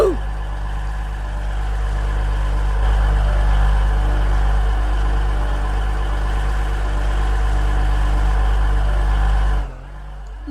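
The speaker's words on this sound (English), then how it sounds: "let's listen to these new idling sounds" Idling train engine in the Roblox game Stepford County Railway, patch 1.8.1: a steady, loud low drone with layered mechanical hum, running unchanged for about nine and a half seconds before cutting off abruptly.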